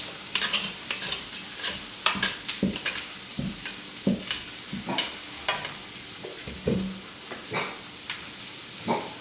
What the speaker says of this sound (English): Take my bench scraper and scrape out the dough.